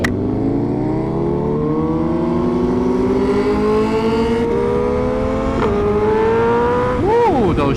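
A Suzuki Hayabusa motorcycle accelerates hard while close, its engine whine climbing in pitch through the gears with sharp drops at each upshift, carried over steady wind rush.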